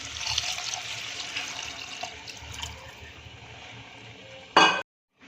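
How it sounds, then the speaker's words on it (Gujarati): Water pours and splashes into a pot of spiced rice for chhole pulao for a few seconds, gradually quieting, followed by a sharp clatter and then silence. "હવે આપણે આમાં પાણી એડ કરી દઈશું."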